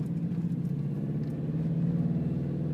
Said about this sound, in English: So 1st gear, accelerate to 2nd gear.